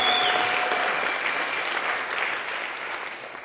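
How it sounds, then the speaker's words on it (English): An audience in a room gives a loud, steady round of applause, many hands clapping together close by and fading slightly toward the end. "So give yourselves a round of applause for being crazy."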